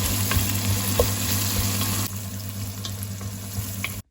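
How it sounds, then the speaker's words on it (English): Thinly sliced onions with salt and whole spices sauté in hot oil for a South Indian chicken biryani, giving a steady close sizzle with occasional stirring clicks. The frying drops to a softer hiss halfway through. "Then add thinly sliced onions, add salt to this and saute until they turn golden brown."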